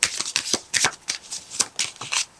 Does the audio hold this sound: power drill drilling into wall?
no